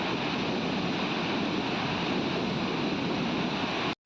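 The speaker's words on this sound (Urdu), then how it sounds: "گھن گرج آواز کے ساتھ ندی کا پانی دھبدھبے میں بہتا ہوا دکھائی دے رہا ہے" Flooded river water roars over Sahastrakund waterfall after torrential rain, a loud, dense and unbroken wall of rushing noise that stays constant and then cuts off abruptly at the end.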